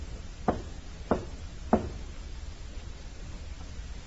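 Three single knocks on a side door as a radio drama effect, evenly spaced about half a second apart, sharp and close against a quiet background hiss.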